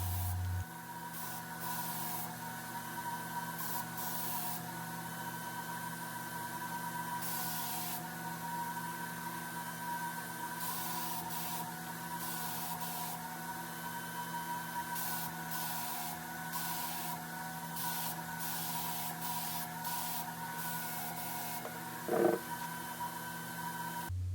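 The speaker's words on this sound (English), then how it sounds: "the next day I spray my first coat of black lacquer on the chairs" Black lacquer sprayed onto chairs in a driveway workshop, a steady continuous hiss of the spray gun running almost unbroken throughout, with faint mechanical hum underneath and one brief knock near the end.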